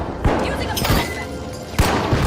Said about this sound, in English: Using a flashbang.